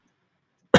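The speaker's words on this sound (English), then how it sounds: "I had to cough at the exact same time that you stopped" A single short, sharp cough bursts out close by at the very end, after near silence.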